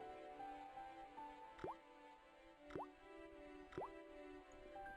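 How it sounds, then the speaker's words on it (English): A rusty faucet in Broken Sword drips steadily, three distinct plopping drops about a second apart, quiet and close against a soft background hum, with no talk. "I shut off the faucet as tight as I could, but it kept on dripping."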